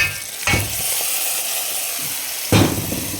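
Grated coconut is stirred into jackfruit in a hot pan for a Kerala erussery, a constant sizzle broken by two louder scraping stirs, close by and with no talking.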